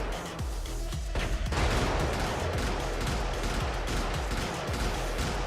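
Mech weapons firing in Brigador, with dense, rapid, continuous gunfire bursts that are loud and close and run steadily with no voices.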